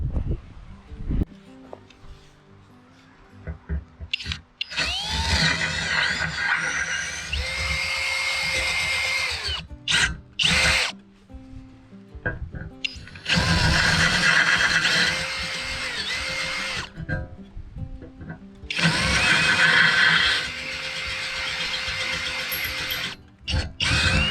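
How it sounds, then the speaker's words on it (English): A power drill bores holes through an aluminum sailboat bow roller, whining in three long sustained bursts with short stops and starts between them, close and loud in a quiet workshop. "I thought I'll just drill them now"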